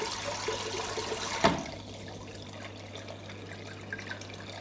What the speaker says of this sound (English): I'm doing a water change a day late.